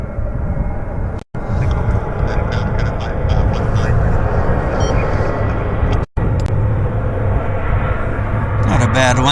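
An airliner inbound from Seattle lands at Vancouver airport, a loud, steady jet roar with rumbling engine noise close by, broken by two brief dropouts, with faint voices near the end.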